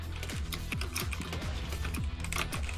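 Keystrokes on a computer keyboard with a sticky W key, a steady run of sharp clicks close by, some sounding heavier and drawn out, with no talk over them.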